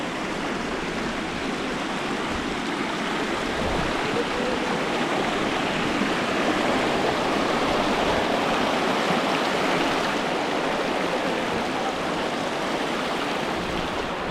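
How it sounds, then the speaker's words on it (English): Broad, steady rush of glacier meltwater tumbling down a waterfall and mountain stream on Rysy in the Tatras, loud and continuous throughout with no talking over it. "This is where that waterfall is."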